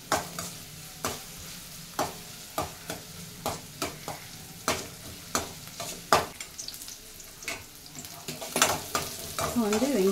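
Onions fry in a pan while being stirred, a soft continuous sizzle broken by regular, sharp scraping strokes of the spoon every second or so, close and moderately quiet, with no talking.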